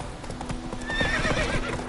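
Roach, the horse in The Witcher 3, gallops with rapid clip-clopping hooves and gives a brief whinny partway through, close and moderately loud.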